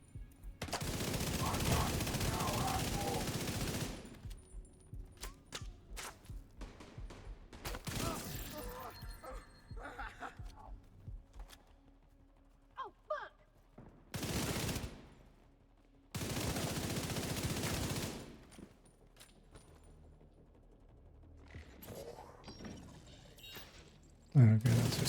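Automatic turret fire in a shooter video game, several long loud bursts of rapid gunfire separated by quieter gaps, with brief shorter volleys and occasional thuds in between.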